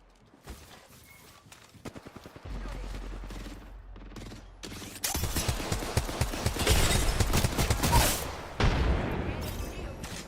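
Gunfire in an Apex Legends ranked match, scattered shots early, then sustained heavy bursts of automatic fire building to a loud close exchange, with game sounds mixed in.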